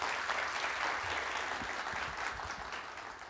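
Steady applause from an audience at a Mevlid recitation competition as a contestant leaves the stage, dense clapping filling the whole stretch and fading slightly toward the end.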